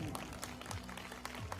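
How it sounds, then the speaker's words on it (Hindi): An audience claps at a school annual day function, with a moderate burst of applause close by while a voice carries over it. "एक बार जोरदार तालियां हो जाएं अपनी अपनी माँ के लिए।"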